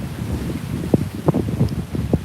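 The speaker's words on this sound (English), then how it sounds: "It's so windy right now." Strong wind buffets the microphone on a beach in East Toronto, producing a loud, rough low rumble with gusty bumps throughout.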